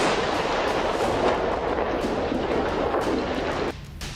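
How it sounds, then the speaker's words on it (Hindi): Continuous heavy rumbling blasts and crackling from Israeli airstrikes bombing the Akkar area of northern Lebanon, a dense sustained roar of explosions that suddenly drops off near the end. "जहां के अक्कर इलाके में आईडीएफ ने बमबारी की"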